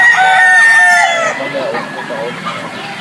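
Several white-feathered White Jacket gamefowl roosters at a game farm crow loudly in overlapping calls, with clucking and faint farm background as the chorus fades slightly toward the end.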